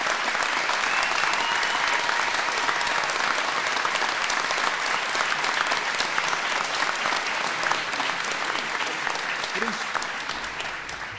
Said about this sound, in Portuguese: peço uma grande salva de palmas para eles, que eles bem merecem